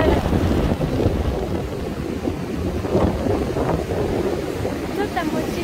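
Strong wind and crashing surf on a beach battered by tropical storm Nicole, a constant loud roar with wind buffeting the microphone and waves breaking throughout.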